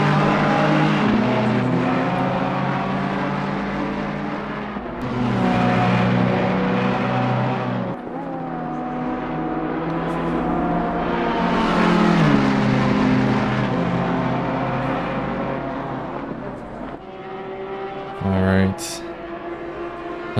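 GT3 race car engines at Kyalami in Assetto Corsa Competizione, loud and close, rising and falling through gear shifts as cars battle for position, with commentary voices over the engine roar.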